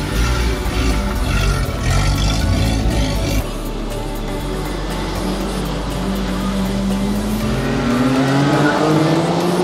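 Kei trucks racing on a track, engines revving loudly with rising pitch and tires squealing, a close, dense roar throughout.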